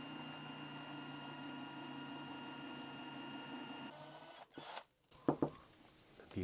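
A power drill running steadily with a continuous whirring hum while boring into the trunk of a 1968 custom Cougar, close by, then stopping, followed by a few sharp handling clunks.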